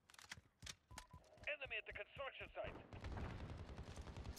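Gunfire in Call of Duty Modern Warfare rings out as sharp, rapid shots, first spaced and then in a dense burst, mixed with in-game shouting and player talk.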